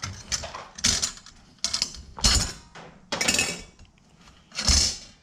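Plastic clips snapping open and pieces of a car's air filter housing being pulled out, mesh and foam filter layers, heard as about six sharp clacks and rustles spaced unevenly, close and fairly loud.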